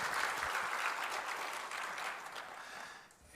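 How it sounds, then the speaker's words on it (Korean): A church congregation claps at a Sunday service, a dense, fairly soft patter of many hands that tapers off toward the end. "한번 박수로 한번 격려해 주시기를 바랍니다."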